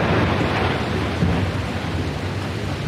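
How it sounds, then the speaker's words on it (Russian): Thunderstorm at night in Nizhnekamsk, with heavy rain roaring steadily and deep rumbling thunder rolling underneath, loud and continuous with no voices. "На телефоны снимали световое шоу в исполнении грозы."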